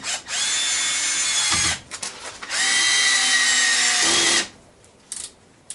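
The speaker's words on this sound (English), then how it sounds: "drill several more screws with both of these till it has a battery that runs down" A cordless drill driving screws whines loudly in two long bursts, pausing briefly between them, then winds down, leaving faint clicks and a short final buzz.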